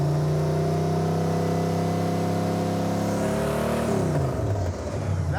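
A Camaro V8 fitted with a new HEI ignition runs loud and close, holding a steady idle before its pitch drops as it is throttled down.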